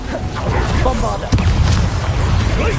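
A deep booming blast from the Bombarda explosion spell in Hogwarts Legacy, a loud low rumble that swells and lingers for a few seconds with a sharp thump midway.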